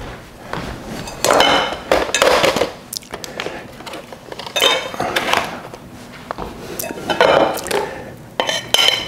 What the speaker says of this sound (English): So I'm going to take some of this pasta salad out and put it in a separate bowl